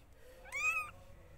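A single newborn village kitten gives one clear, thin meow of about half a second, close by over a faint room hum.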